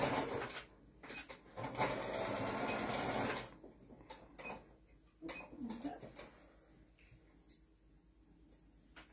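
A sewing machine stitching the edges of elastic inside a fabric casing: a quiet, rapid whirring run of several seconds, then softer intermittent clicks and handling noises, all faint and close.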